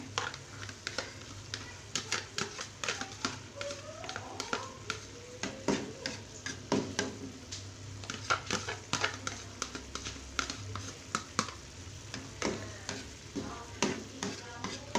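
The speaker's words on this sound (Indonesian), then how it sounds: "Kita aduk-aduk. Tunggu sampai saus mengental dan berkurang sedikit airnya." Chili and tomato sauce for sate lilit sizzle in a frying pan while a utensil stirs them, giving irregular scraping clicks over a steady, soft frying hiss close by.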